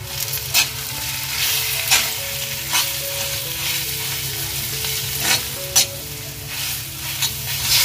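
A pan sizzles steadily up close while a spoon stirs and scrapes through thick ground spice paste with garam masala, with a few sharper clicks along the way.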